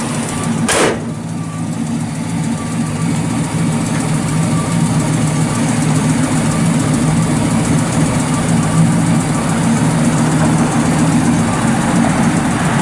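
A 1967 Ford Fairlane 500 XL with a four-speed and dual exhaust idles steadily nearby, a low, even rumble holding for the whole stretch after a brief sharp click at the start, with no talk.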